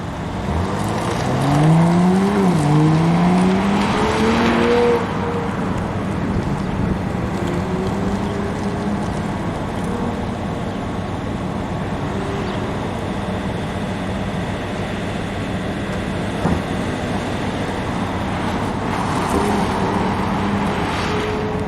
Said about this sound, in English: watching the BMW and the Mini cars going around the track.